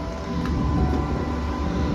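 An Amtrak train idling at Croton-Harmon station, heard as a steady, loud low rumble and hum of engine and rail noise filling the scene without a break.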